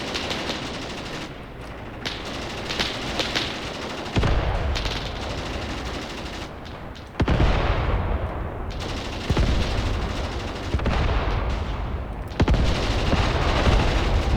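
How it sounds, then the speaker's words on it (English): Mortar strikes and gunfire in the wargame Graviteam Tactics: bursts of rattling automatic fire roll almost continuously, and heavy low booms land every few seconds as the shells hit a village. "Mortar strike is now hitting the village really hard."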